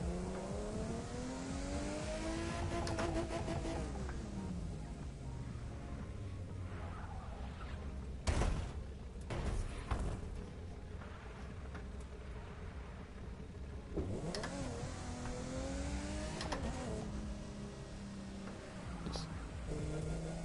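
A race car engine in The Crew 2 hums and revs through a long stretch of a race, rising and falling in pitch as it coasts and accelerates, with brief bumps and scrapes.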